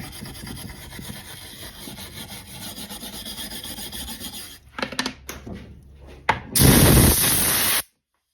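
Char is scraped and rubbed from a wooden pistol-mount board in a steady rasping stream, then come several sharp, louder scrapes and a final burst of harsh brushing near the end.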